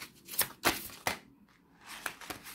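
Tarot cards being shuffled by hand in a few quick papery riffling bursts with short pauses between, close and fairly quiet, no talking.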